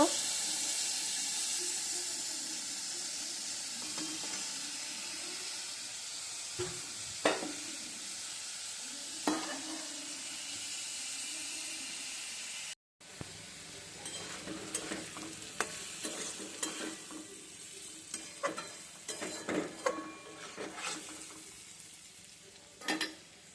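Pieces of boal river fish fry in oil until reddish brown, a constant hissing sizzle with intermittent spatula scrapes and clacks; after a brief cutoff the frying resumes busier, with denser stirring and spitting crackles.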